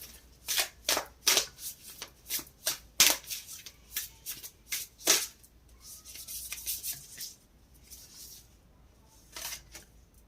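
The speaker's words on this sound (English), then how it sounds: "So we pull one card from the Soulful Woman." An oracle card deck being shuffled by hand, a quick series of close, crisp riffling bursts in a steady rhythm, followed by softer rustling and a final brief flurry, with no one talking.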